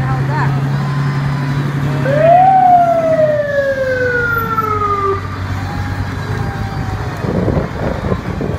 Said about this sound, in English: Old fire engine right there